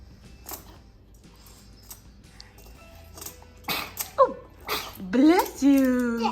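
A single person sneezes, a sharp burst standing out over background chatter and room noise, with voices talking around it.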